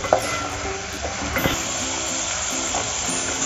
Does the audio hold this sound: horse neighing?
no